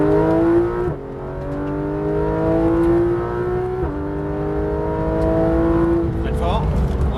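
Porsche 991 GT3 RS at full throttle leaving the pit exit at Le Mans, its engine note climbing steadily through two upshifts, loud and close from onboard, with a voice talking over it.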